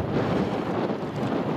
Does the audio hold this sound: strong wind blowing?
yes